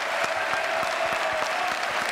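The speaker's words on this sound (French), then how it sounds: "Applaudissements pour Louise Sorel" TV studio audience applauding, a dense, even roar of clapping hands with a faint steady tone beneath, continuous and moderately loud.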